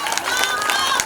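A crowd claps and cheers at a women's bhajan competition held for Shivratri in Bhopal. The applause is dense and sustained through the whole moment, with voices mixed in.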